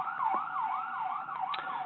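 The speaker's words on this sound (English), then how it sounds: "I apologize for the background sirens." A wailing emergency vehicle siren rises and falls in a steady cycle, sounding somewhat distant and muffled, with faint traffic noise beneath, in Beachwood, Ohio.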